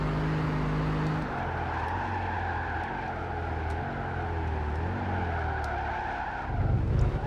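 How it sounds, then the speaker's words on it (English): Race car in the Gran Turismo 5 video game braking hard and downshifting, with a steady engine drone and a long tire skid squealing under heavy braking, then a rougher scrub at the end. "We're going to be braking into second."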